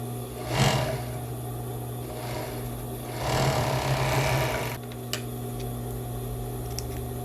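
A sewing machine stitches two pieces of lace together for a cropped bra, running in two short bursts over a steady motor hum, with a few small clicks afterward.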